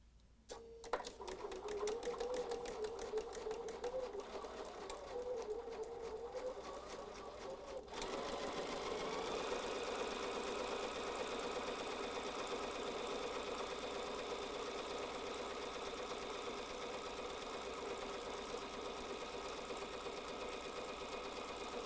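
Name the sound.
sewing machine stitching fabric with seam guide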